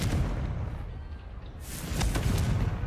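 A fiery Confringo spell blast in Hogwarts Legacy, a dense booming rumble that holds steady, dips briefly and swells into a second burst, loud and close with no talking.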